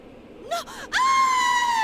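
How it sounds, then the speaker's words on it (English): A woman in the video game Persona 4 screams as she falls in, with short gasping cries that rise into one long, loud, piercing shriek at close range. "What kind of a scream was that?"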